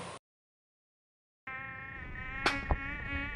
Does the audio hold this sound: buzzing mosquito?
yes